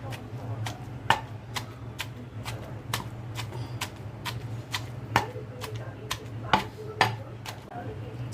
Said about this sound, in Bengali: এখন আমি ছেঁচে ভর্তা করব।